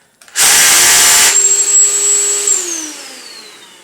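Makita 18V LXRH01 rotary hammer drill, loud and close, starts with a harsh whirring burst about a second long, then a dust-extraction motor whines on alone and winds down in pitch.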